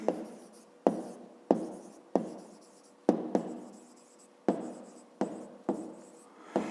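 Pen or pencil writing by hand on paper, a series of sharp scratchy strokes and taps repeating in short bursts, close and clear with no talking.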